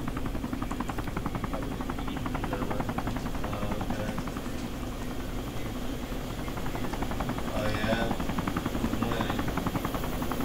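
Helicopter in the video game DayZ, a steady loud rotor and engine drone that holds throughout, with a brief voice murmuring faintly under it.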